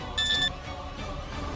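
A mobile phone rings with a short electronic beeping tone that is brief and moderately loud, then stops and leaves a low background hum with no talk.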